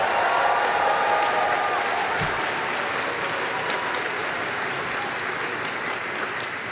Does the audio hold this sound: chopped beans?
no